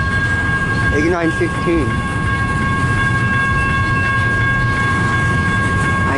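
A CN 533 northbound local freight train rolls past steadily in Richmond, Michigan, with a continuous loud rumble and rail noise throughout. A person speaks briefly over it near the start.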